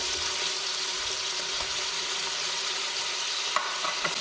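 Onions and tomatoes frying in a pan for turnip-meat curry, a steady broadband sizzle with a few light clinks of stirring near the end, no talk.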